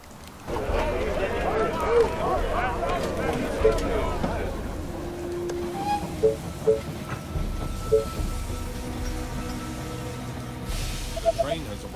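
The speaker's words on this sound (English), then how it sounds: "The train has arrived at the station." A train pulls into a station in the strategy video game They Are Billions, giving a rolling rail rumble with clatter through most of the stretch, mixed with game effects and voiced unit lines.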